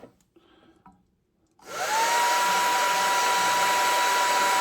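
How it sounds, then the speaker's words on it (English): After a moment of quiet rustling, a hair dryer switches on and roars steadily and loudly, close by, with a constant high whine, used to apply a decal. "the hairdryer will blow them off in the corner here"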